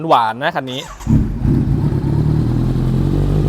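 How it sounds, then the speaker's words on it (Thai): Kawasaki Z900 SE from 2018, an inline-four with a titanium exhaust, revved twice in quick sharp blips while stationary, then settling into a loud, close, steady idle burble. "ดี๋ยวเราลองมาฟังนะครับ เครื่องสี่สูบเรียงเสียง"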